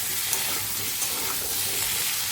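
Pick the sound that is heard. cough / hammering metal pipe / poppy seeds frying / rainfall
poppy seeds frying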